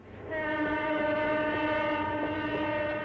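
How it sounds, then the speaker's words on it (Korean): A train runs steadily as a radio drama sound effect for a ride on a train bound for Gyeongju, with a sustained horn-like tonal drone over a continuous rumble, loud and close throughout. "경주행 기차를 탄다"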